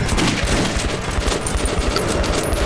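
Rapid bursts of gunfire in the Metro 2033 tunnels crackle loud and close, shots stacking into a dense, near-continuous volley for the whole moment.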